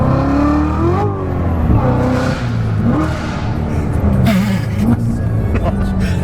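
The exhaust of a Corvette C7 Z06 with the Z07 pack, rated 659 hp, resonates loudly as the engine revs, with rising and falling pitch sweeps. Occupants talk over it.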